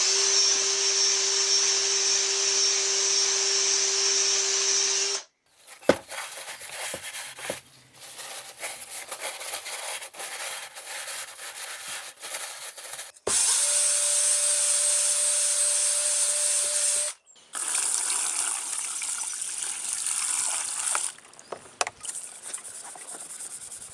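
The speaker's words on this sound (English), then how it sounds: "I'm going to hone the 2 cylinders" A powered cylinder hone works inside the two cylinders of a rusty garden tractor engine, a loud, sustained high whirring grind that runs in long stretches, stops briefly several times and restarts, with scraping rubs between the bursts.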